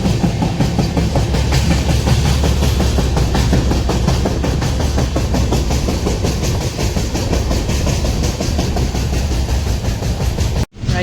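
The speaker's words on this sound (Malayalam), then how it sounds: "നമ്മളങ്ങനെ നെക്സ്റ്റ് ട്രെയിൻ മാറി കേറി" Train running on rails, a steady loud rumble with rhythmic clickety-clack from the wheels, heard continuously from close by until a brief cut near the end.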